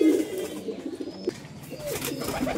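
Giribaz pigeons coo at close range, a throaty burst at the start followed by softer rolling murmurs against a busy room background.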